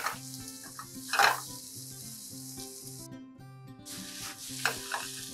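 Onions stir-fry with salt in a pan, a soft steady sizzle with occasional sharp spatula scrapes against the pan under a faint continuous tonal background hum.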